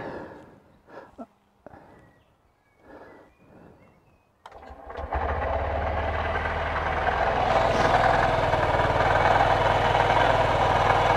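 A Honda CB125F motorcycle, just back together after a valve adjustment, starts up midway after a few quiet clicks and handling sounds, then settles into a steady, close, even idle that holds to the end.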